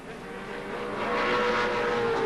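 Touring race cars at speed on the Phillip Island circuit, a distant engine whine swelling louder as a car approaches over a couple of seconds, with no voices.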